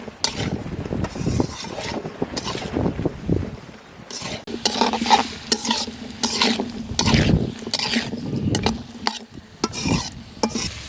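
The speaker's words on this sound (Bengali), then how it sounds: "ভেজে নেব ভালো করে" Potatoes frying in a pan with turmeric and ground shrimp, stirred by a utensil; loud scraping and clattering strokes repeat irregularly over a steady sizzle, close up, with no voices.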